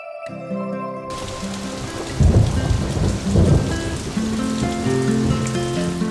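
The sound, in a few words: heavy rain with thunder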